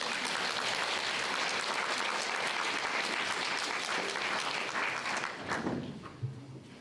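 A school concert audience breaks into loud, dense applause for a graduate at a school's 70th anniversary concert, then tapers off near the end.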